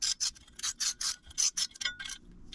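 Bolts being hand threaded into a steel fog light pod bracket on a 2019+ RAM 1500 TRX, a steady series of short rasping, ratchety turns, close and clear with brief pauses between strokes.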